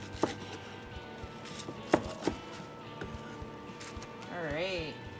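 A knife chops crispy pork skin and jowl on a cutting board: several sharp, crunchy knocks spaced irregularly at moderate volume, with a person speaking between and over the cuts.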